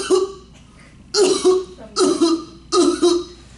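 A person gives a demonstration cough, four separate loud, close bursts spaced roughly evenly, some breaking into two quick hacks, with quiet pauses between them.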